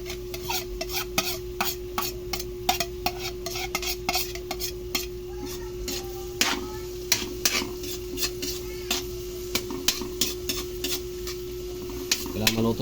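Onions sautéing in a pan for spaghetti sauce, with steady stirring and sharp utensil clinks against the pan repeating throughout and a constant low hum underneath.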